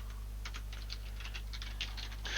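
Rapid, irregular keystrokes on a computer keyboard during programming work, close and clear over a steady low electrical hum, with no talking.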